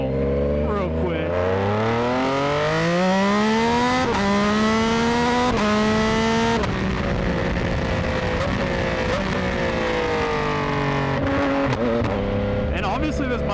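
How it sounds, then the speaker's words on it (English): A Yamaha R9 sport motorcycle is run at full throttle, its engine note climbing repeatedly in rising sweeps as it shifts up through the gears. The revving is loud and sustained across the whole stretch. "I'll give it full throttle real quick."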